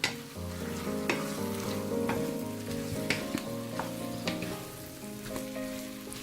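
A spoon stirs a kilogram of home-made Eritrean chicken curry with spices in a pot, giving steady sizzling with scraping clinks over a faint musical backdrop and no talk.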